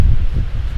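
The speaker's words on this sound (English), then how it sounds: "It's still crazy windy" Strong wind at a lakeshore camp on Lake Superior buffets close by in a loud, steady low rumble, alone with no talking.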